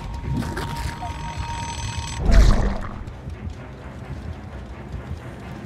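A yellow timer alarm beeps steadily for about two seconds, then stops with a thump, heard close up in a quiet room.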